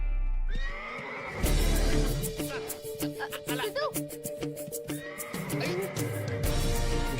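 A horse whinnies loudly during riding training, a long neigh followed by another, with hoof clip-clops and people talking alongside.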